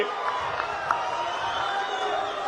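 Crowd at an Andhra Pradesh auto drivers scheme event cheering and clapping, a steady roar of many voices with a few whoops rising over it, fairly distant and continuous throughout.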